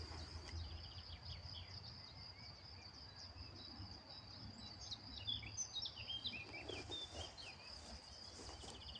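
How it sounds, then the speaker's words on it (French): Birds sing outdoors near a village, with a road not far off: faint, scattered high chirps and trills over a steady bed of insect buzzing and low distant rumble. "J'espère que vous entendez les oiseaux, c'est magnifique."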